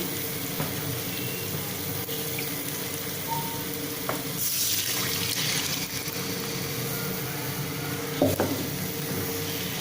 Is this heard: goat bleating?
no